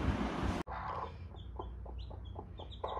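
A hen clucks in a short series of soft, evenly spaced calls close by, with chicks peeping faintly around her after a brief loud noise at the start.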